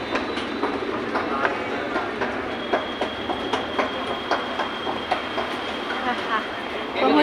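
Delhi metro train running on its rails, a steady broadband rumble with a regular clickety-clack of wheels over rail joints and a thin high whine throughout, close and continuous, with faint voices underneath.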